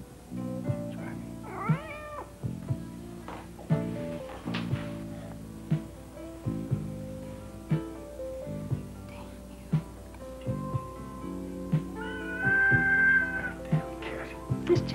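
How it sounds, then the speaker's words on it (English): A hungry cat meows repeatedly under a soft musical backdrop, with brief drawn-out cries rising and falling among steady sustained tones over fifteen seconds. "Damn cat."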